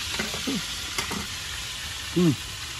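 Fish frying in hot oil sends up a steady close sizzle and hiss, with a few brief voice fragments breaking in over it.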